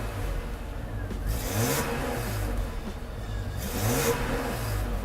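A Mercedes-Benz W126 300SEL engine, warmed up, revving from idle in two rising-and-falling surges, heard close and loud with a steady mechanical drone throughout.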